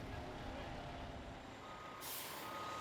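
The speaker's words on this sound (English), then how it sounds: "you may be required to back the truck into the bay" A fire truck backs up with steady rhythmic reversing beeps and a hissing air-brake release near the end, heard at a moderate distance over a low engine rumble.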